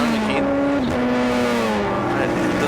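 A race car in a GT1/GT2 scratch race at Hampton Downs screams past with a loud, high engine whine that drops in pitch as it goes by, followed by the drone of other cars on track.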